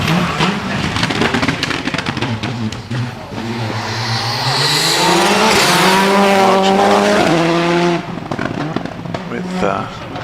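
A Skoda Fabia R5 rally car revs up at the start line of a hillclimb, its engine note climbing in repeated rising sweeps, loud and close, with tire noise and a commentator talking over it.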